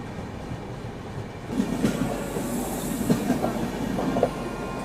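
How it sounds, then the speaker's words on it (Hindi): The Mahanagri Express passenger train, running from Mumbai to Varanasi, rolls past on the rails. A loud steady rumble with rhythmic wheel clacks starts partway through and continues to the end. "और ये रही महानगरी एक्सप्रेस।"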